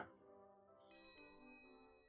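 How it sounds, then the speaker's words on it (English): A bell rings once inside a roleplay scene, a bright metallic ding that rises suddenly and sustains briefly after a faint tonal hum. "there goes the bell"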